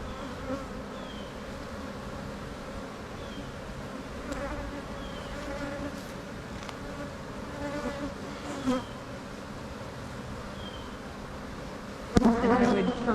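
Honey bees buzz steadily around a wonky hive taken from a tree, with a queen starting to lay; a continuous droning hum with faint individual flybys, and a louder burst near the end as bees pass close.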